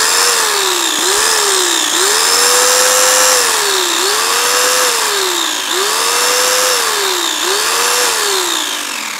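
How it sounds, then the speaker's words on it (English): A chainsaw revs hard in repeated surges with quick drops between them, a loud and close high-pitched whine rising and falling about five times while it runs on a power analyzer setup. "Let's rev the chainsaw, right?"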